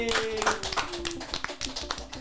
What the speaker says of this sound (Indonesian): Jadi tepuk tangan dulu dong buat perempuan, apalagi dua perempuan yang di sini